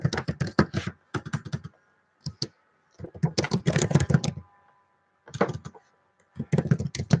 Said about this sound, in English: I gotta type.